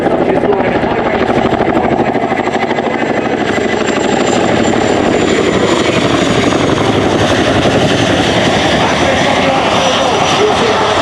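A Chinook HC5 twin-rotor helicopter performing a running landing at an air show, loud and continuous, with heavy rhythmic rotor thumping over a roaring turbine drone.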